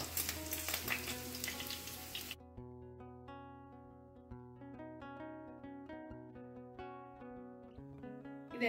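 Mackerel fries in a pan with a dense, close sizzle for about two seconds before background music takes over.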